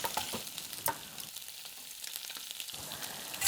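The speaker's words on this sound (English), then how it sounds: "So I'm just going to go in with frying off some of these spring onions." Soft, steady sizzling of spring onions frying in a pan, with a few sharper crackles and clinks near the start and end, no voices.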